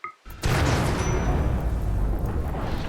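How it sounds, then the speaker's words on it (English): A large explosion in the colony game Rimworld erupts after a brief quiet lead-in, then a loud, sustained rumbling roar fills the rest of the moment, with no talking. "we're just gonna straight up hit it with an explosion"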